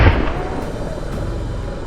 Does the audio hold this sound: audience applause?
no